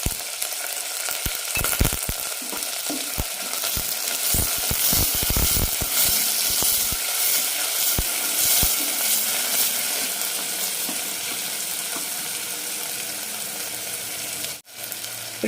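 Onion, tomato and green chili fry in a pan, a loud continuous sizzle with repeated scraping stir clatters in the first half, then steady hissing alone.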